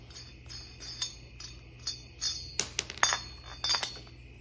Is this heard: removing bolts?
yes